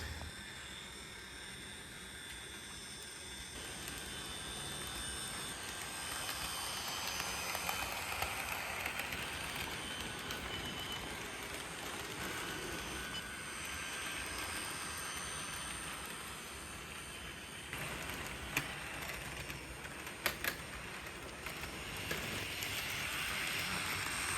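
A continuous low rumbling and hiss from an HO scale brass Union Pacific FEF-3 4-8-4 #840 model steam locomotive running steadily along a track, with occasional faint clicks over the top.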